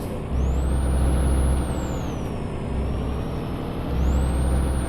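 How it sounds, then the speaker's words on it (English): A Peterbilt 387 truck in Euro Truck Simulator 2 drones loudly with a low engine rumble while a high turbo whistle rises and falls, swelling again near the end; no talk. "I hear this thing's got a nice Jake brake though. Ooh, hear that turbo."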